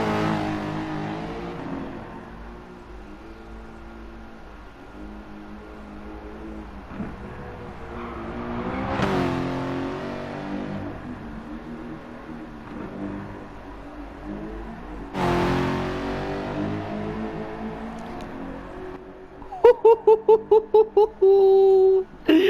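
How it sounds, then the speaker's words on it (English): A BMW M3 E92 V8 in Gran Turismo, heard as a game engine sound: a moderate engine drone with two rising revs building to sharp peaks, followed by rapid high-revving bursts near the end. "Give me that high revving V8."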